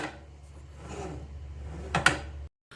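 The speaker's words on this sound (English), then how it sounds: "here's the pull down feature" Pull-down sprayer of a WEWE oiled bronze kitchen faucet being drawn out, a soft sliding rub followed by a brief sharp clack, close and quiet, then silence.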